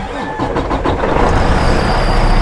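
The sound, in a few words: Detroit DD15 diesel truck engine starting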